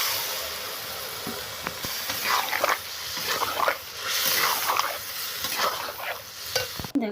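Spice-washing water hits a hot pan of fried lentil bori, setting off a loud bubbling sizzle that surges and fades in waves, with a few sharp clatters of utensils nearby.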